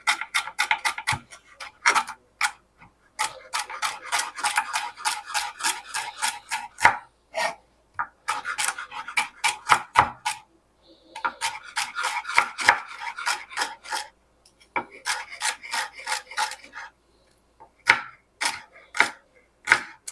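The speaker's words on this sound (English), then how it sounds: "Okay, let's get this finely diced." A knife finely dicing a rib of celery on a cutting board for potato salad, giving rapid, crisp chopping taps in bursts of steady rhythm with short pauses between them, close and clear with no talking.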